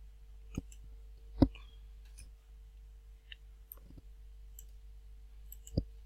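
Faint, sparse computer mouse clicks, a handful of single taps spaced irregularly against a quiet hum, no talking.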